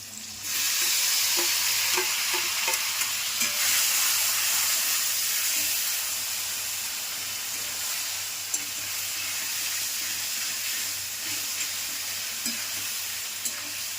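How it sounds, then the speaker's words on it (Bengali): Spiced marinated mutton frying with papaya in a pan: a steady loud sizzle and hiss with stirring scrapes, close and continuous with no talk. "এটা মিনিট 10 ভালো করে কষতে হবে"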